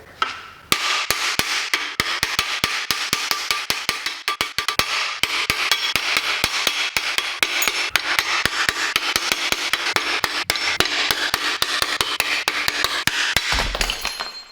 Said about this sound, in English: So I'm just hammering this sucker out.